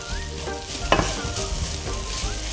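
Fish cake stir-frying with garlic in a pan over low heat, a steady close sizzle with frequent spatula scrapes and one sharper clatter, no voices.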